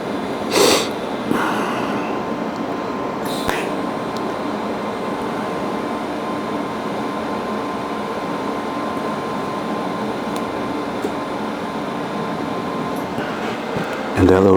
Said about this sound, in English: And that little technique is what we call fusing.